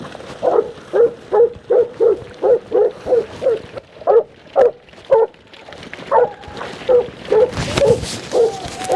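A sheepdog gives a steady run of loud, evenly spaced barks while working sheep on a farm during scanning, close by and continuing with a few short pauses, alone without talk.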